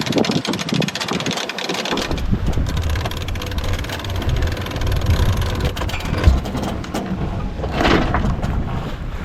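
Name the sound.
sailboat engine running at sea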